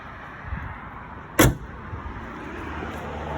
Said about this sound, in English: Let me close the hood.